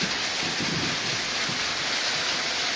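Heavy rain pours steadily on the Baleshwar riverbank, a dense, continuous hiss with low rumbles of thunder rolling underneath, close and loud throughout.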